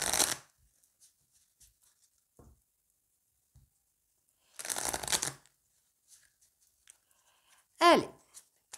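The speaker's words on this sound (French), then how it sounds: "Je vais les mélanger dans l'autre sens." Tarot cards being shuffled by hand, heard as two distinct riffling bursts, one at the very start and a longer one midway, with soft taps and small handling noises in between and a brief sharp flick near the end.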